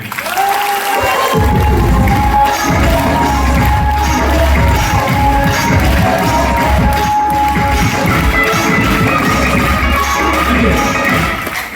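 A large audience at a live business seminar in Malda breaks into sustained, loud clapping mixed with cheering and shouts, filling the hall for the whole stretch.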